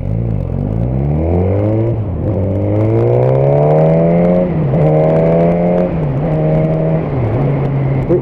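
A Suzuki GSX-S 1000 motorcycle with a Yoshimura exhaust and cam revs close up, its engine note rising and falling in several loud, throaty sweeps with brief dips between pulls, no voices over it.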